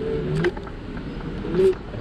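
A car in heavy rainy-day traffic rolls past nearby, its engine hum and tire noise audible for a couple of seconds from an electric scooter rider's position.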